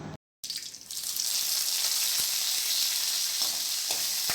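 Chana dal, urad dal, torn chillies and curry leaves sizzling in hot oil for a banana stem stir-fry, a steady bright crackling hiss that swells after a short gap and holds, with a few faint clinks.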